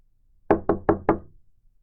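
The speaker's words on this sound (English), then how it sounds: "Liam woke to the sound of a knock on his apartment door." Four quick, solid knocks on an apartment door in an even rhythm, close and distinct against an otherwise silent background.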